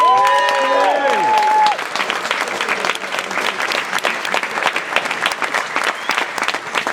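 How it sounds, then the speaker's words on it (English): An audience breaks into sustained applause after a band's gig at an adjudicated music performance in Birmingham, dense clapping holding steady to the end with a voice briefly heard at the start. "Round of applause."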